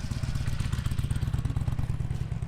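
A motorcycle idling at a campground: close, loud, rapid chugging engine pulses in a steady uneven rhythm, with a slight rise in revs, and no talking.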